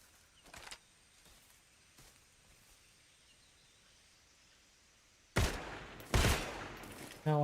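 Heavy gunshots in the stealth action game Metal Gear Solid Delta: Snake Eater, with a few loud, close bursts near the end after a long, quiet stretch of faint ambience and a couple of soft thuds.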